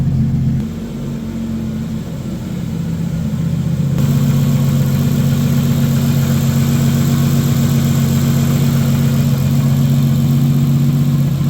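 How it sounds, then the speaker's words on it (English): A Nissan drift car's engine idles steadily with a low, even drone that holds close and loud throughout, growing slightly fuller after the first few seconds. "I'm super surprised it's actually idling"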